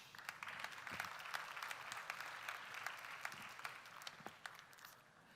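Audience applause at a development bank's annual meeting, a steady wash of many hands clapping that sustains for several seconds before easing off slightly at the end.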